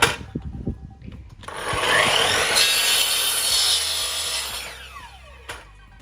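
A saw makes a test cut through wood boards. The rasping, grinding cut runs steadily for about four seconds after some light handling knocks, then stops.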